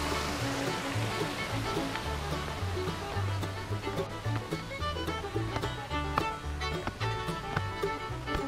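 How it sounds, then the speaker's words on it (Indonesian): A river flowing beside a highland camping ground near Curug Panjang in Indonesia, a continuous rushing wash of water heard steadily throughout, with no talking. "Sungai terus."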